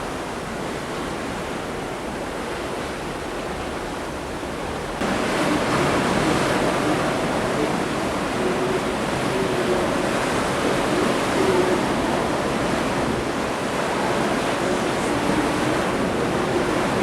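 Rushing water from waterfalls pouring down the cliffs at Milford Sound, New Zealand, makes a steady, dense roar that grows louder partway through and then holds unbroken, with no voices.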